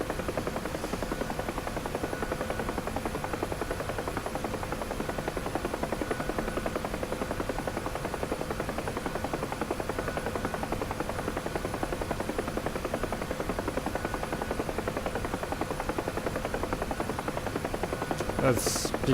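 A simulated helicopter in a flight simulator game hovers and descends for a vertical landing, its rotor drone a steady buzzing hum that stays even and moderately loud throughout.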